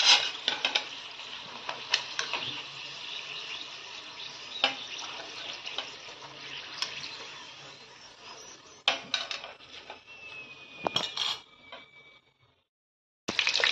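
A split green chili with a little salt fries in hot oil, the sizzle crackling with stirring clatter and a few sharp knocks, easing toward the end before a brief silence and a final burst of noise.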